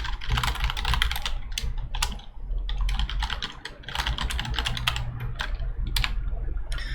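Fingers type steadily on a computer keyboard while entering data into business software, with rapid close clicks that come in bursts and brief pauses, and no one speaks.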